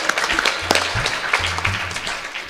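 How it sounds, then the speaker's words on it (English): An audience at a Sunday morning satsang gathering claps in applause, with uneven overlapping hand claps and a few louder near claps over about two and a half seconds. "wonderful round of applause."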